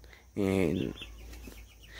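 A single short, harmonic call from a chicken in a garden in Santa Cruz Barillas, Guatemala, close and clear, followed by faint scratchy background noise.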